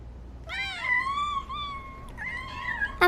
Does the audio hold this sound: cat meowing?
yes